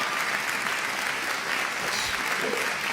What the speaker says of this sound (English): The applause sound effect.